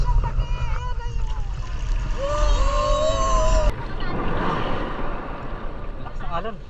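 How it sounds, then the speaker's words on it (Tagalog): Strong sea waves wash and churn loudly nearby at White Beach, Puerto Galera, with people talking and calling out over the rushing water. "Lakas ng alon."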